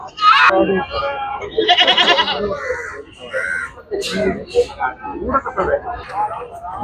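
Goats bleat repeatedly at a busy livestock market in Chattiparamba, loud and close, their calls overlapping with people talking nearby.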